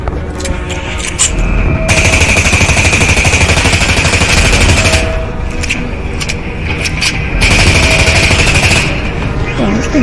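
Automatic gunfire from a video game, with rapid bursts of shots fired continuously as ammo is emptied, loud and close with brief pauses between bursts.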